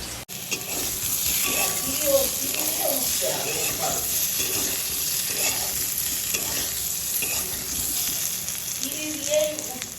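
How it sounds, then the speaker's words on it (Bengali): Aloo dum potato curry bubbling and sizzling in a pan, a continuous close hiss with soft spatters, while a voice speaks over it in places. "গাইস দেখো আলুর দমটা হচ্ছে"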